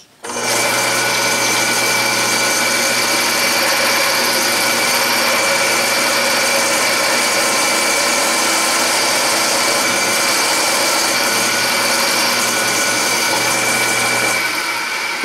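A multi-spindle drill press attachment drills two holes in 1/8-inch steel with 3/16-inch bits, a loud, steady motor whine with a constant hum that starts abruptly and runs without a break.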